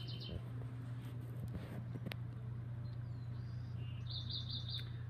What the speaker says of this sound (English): He's a rescue parrot.